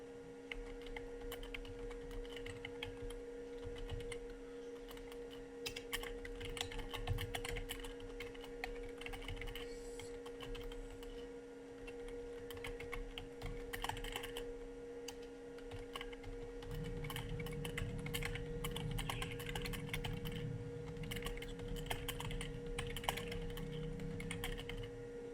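Computer keyboard typing runs throughout in a quiet room, steady clicks with a paste shortcut and an enter press somewhere in the run, all over a constant low electrical mains hum, with no voices.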